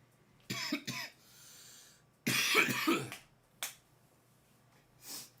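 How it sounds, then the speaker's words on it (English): Several coughs after a big dab, a pair of short harsh bursts followed by a longer loud coughing fit and a couple of smaller coughs, close and dry. "This a big dab got me coughing and sweating."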